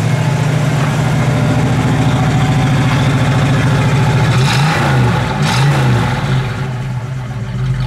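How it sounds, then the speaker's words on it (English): A 1974 Plymouth Barracuda's V8 idles with a deep, burbling dual-exhaust rumble, then revs up twice in quick blips before settling back down, loud and close. "As far as that dual exhaust sound, it's got a great sound to it."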